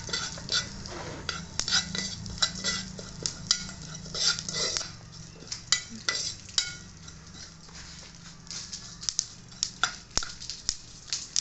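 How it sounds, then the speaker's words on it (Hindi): Flaxseed dry-roasting in a pan without ghee while a spoon keeps stirring it: repeated sharp metallic scrapes and clinks of the spoon against the pan over a faint crackle and sizzle, with no talking. "इसका मतलब है कि अलसी ना फ्राई होना शुरू हो गई है, रोस्टेड हो रही है थोड़ी थोड़ी हल्की हल्की ना"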